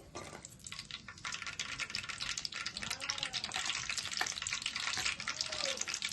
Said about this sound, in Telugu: ఆయిల్ వేడయింది మనం కట్ చేసి పెట్టుకున్న పచ్చిమిర్చి